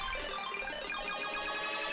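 Electronic synth bass and a fast arpeggio in a hardcore chiptune-style track, the pattern climbing steadily in pitch and speeding up over two seconds, dense, loud and continuous with no voices.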